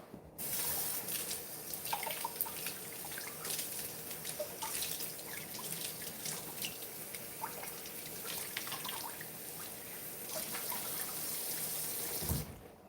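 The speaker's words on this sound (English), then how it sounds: "I'm going to rinse these off." Small broccoli florets rinsed under a running kitchen tap: a steady, moderately quiet stream of water with splashes and drips as the florets are moved about, continuing for several seconds before the flow stops.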